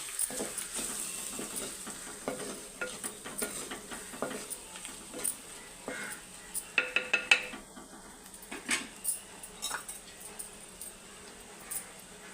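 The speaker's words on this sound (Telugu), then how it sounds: "ఈ మిశ్రమాలు మనం నూనెలో ఇలా మగ్గబెట్టుకుందాం" A spice and ajwain mixture with salt cooks in oil in a pan, heard mostly as repeated spoon scraping and clinking against metal in uneven bursts over a faint, quiet sizzle.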